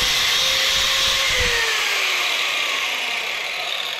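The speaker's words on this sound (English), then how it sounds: "put my grinder to work" An angle grinder cuts into a cast aluminum lamp, producing a loud, continuous close whine with harsh abrasive hiss whose pitch sags slightly as the disc bites into the metal.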